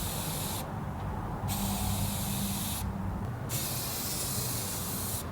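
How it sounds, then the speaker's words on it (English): Rust-Oleum spray paint hisses steadily from an aerosol can onto a shelf frame, a close, loud continuous spray broken by two short pauses between passes. "I'm doing the final coat of spray paint on the frame of the shelf"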